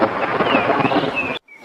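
Cartoon storm scene with a steady roar of heavy rain and rumbling thunder, loud and continuous, then cutting out abruptly near the end.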